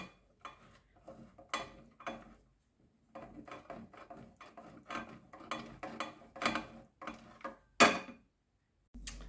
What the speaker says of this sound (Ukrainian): Твердий сир на крупну терточку натираю